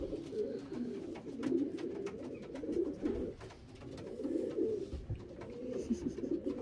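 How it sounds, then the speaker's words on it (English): Racing pigeons coo inside a loft in Belgium, with a steady, layered murmur of low cooing from several birds, fairly close and continuous, with a few faint clicks and rustles over it. "Pigeon."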